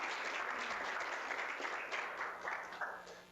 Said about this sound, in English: we just have a round of applause for our guest speaker